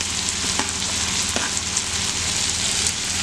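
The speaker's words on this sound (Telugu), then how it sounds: "నెక్స్ట్ నేను ఇందులో టమాటో వేసేసుకుంటున్నాను" Ridge gourd sizzles steadily in a hot frying pan as two medium tomatoes go in for a Telugu chutney, a close, continuous frying hiss with a couple of faint clicks and no talking.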